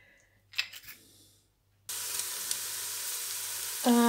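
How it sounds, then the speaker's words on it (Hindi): Chopped onions frying in olive oil on a stovetop, a steady loud sizzle and hiss that starts abruptly after a few quiet clinks and continues unbroken to the end. "यहाँ मैंने 2 प्याज काट लिए हैं, चूल्हा ऑन किया है। अब मैं ऑलिव ऑयल डालूँगी हस्बे ज़रूरत"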